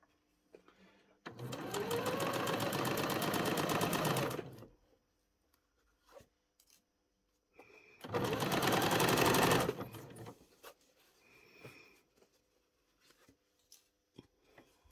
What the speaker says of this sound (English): So just starting at that interior angle, needle down, and we're just going to stitch those two together.